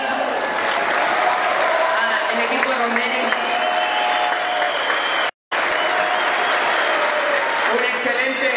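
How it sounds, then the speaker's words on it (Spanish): A large crowd applauds loudly and continuously for Alessandro Pani at a championship event in Corrientes, dense clapping with a brief dropout midway, while someone speaks over it. "quiero agradecer un fuerte aplauso a Alessandro Pani"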